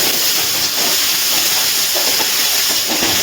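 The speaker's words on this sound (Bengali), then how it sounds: "আদা বাটা আর রসুন বাটার কাঁচা গন্ধ না যাওয়া পর্যন্ত কিন্তু কষিয়ে নিচ্ছি" Ginger, garlic and green chilli paste sizzling in hot oil while being stir-fried for chicken Mughlai paratha filling, a steady bright hiss filling the whole stretch without pause.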